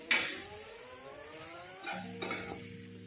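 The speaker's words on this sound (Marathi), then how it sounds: "पोहे टाकून आता मस्तपैकी असं हलवून घ्यायचं." Poha is stirred in a pan, giving a quiet sizzle with soft scraping and a few light metallic clinks of the spoon against the pan, close and without talk.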